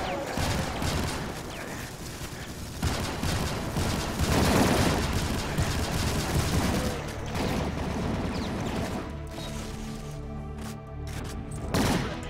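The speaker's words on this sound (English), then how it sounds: "I'm being shot to hell." Heavy gunfire in the Doom mod Alien Vendetta during co-op play, dense overlapping shots and blasts hammering continuously at close range, with sharp bursts near the end.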